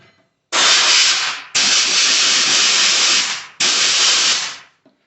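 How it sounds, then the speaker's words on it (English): Compressed air from a hose blasting through a new brake line on a 1985 BMW 633 CSI, three loud steady hissing bursts, close and alone, with short gaps between. "Let me get my air hose. Here we go. Got the air hose. This will make some noise."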